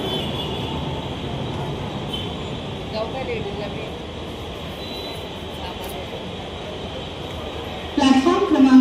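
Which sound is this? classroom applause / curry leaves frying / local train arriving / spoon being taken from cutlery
local train arriving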